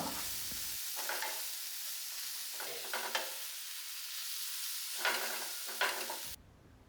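Chili powder and coriander powder being sautéed in a hot pan gives a steady hiss broken by several short stirring scrapes, close and alone, before it cuts off near the end.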